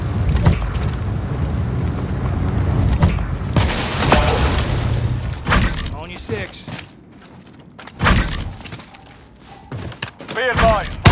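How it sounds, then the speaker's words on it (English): Precision airstrike explosions in Modern Warfare on the Krovnik Farmland map: a series of loud, heavy booms and thuds rolling over several seconds, mixed with clattering gunfire-like bursts and intermittent in-game voices. "Be advised, friendly precision airstrike inbound."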